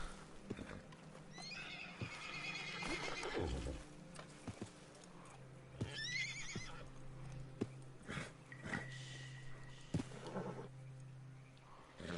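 A horse in Red Dead Redemption 2 whinnies several times, with the clip-clop of its hooves running underneath. The calls are close and fairly loud, and there is no talking.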